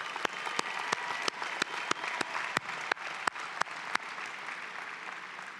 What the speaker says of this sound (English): let's give yourselves another big round of applause for that